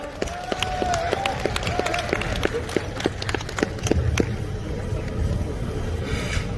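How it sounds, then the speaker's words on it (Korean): A crowd at an outdoor political campaign rally in the square in front of Gumi Station claps and cheers as a student is welcomed onto the stage, a dense, steady applause that runs without a break beneath a busy background of voices. "자, 큰 박수로 한번 맞이하도록 하겠습니다"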